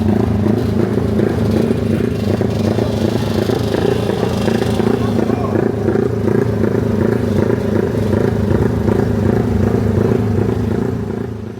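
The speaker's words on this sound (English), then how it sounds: "I got away from the all the noise of the motorcycles at the gas station." Yamaha motorcycles idle and rumble together at a gas station, a dense, close engine drone with uneven throbbing pulses that runs steadily throughout before easing off at the end.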